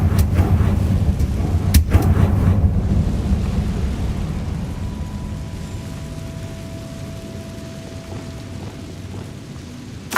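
Confringo explosion spell in a Harry Potter video game, a heavy rumbling blast with a sharp crack early on, then a long low roar fading under a thin held tone.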